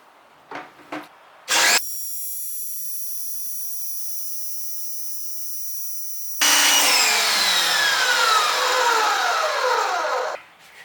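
An ABOSun foam cannon in use: a steady high motor whine runs for several seconds, then gives way to a loud, continuous hissing spray of foam that ends abruptly.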